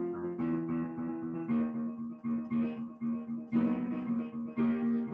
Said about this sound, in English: And the accompaniment sounds something like this.